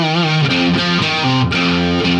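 A slow, heavily distorted electric guitar riff, with sustained gritty notes changing in a deliberate rhythm, loud and alone.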